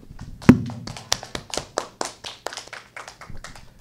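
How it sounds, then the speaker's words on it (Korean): Scattered hand claps from a small audience at a future-generations pavilion forum, thanking two professors after their science and technology talks; one sharp clap leads, then a loose, uneven patter of individual claps that thins out. "우리 두 분께 다시 한번 따뜻한 박수로."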